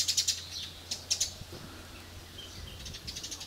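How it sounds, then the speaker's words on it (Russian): Sparrows chirping outdoors at a camp, quick bright tweets in short clusters, fairly close, with quieter chirps trailing off and a faint low hum beneath. "Воробушки сидят."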